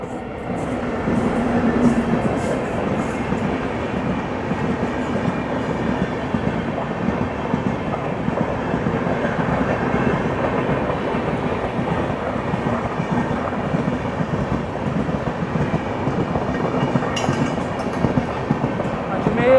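A train rolls steadily along railway tracks near a junction, a continuous loud rumble with faint rhythmic rattling throughout and no distinct gaps.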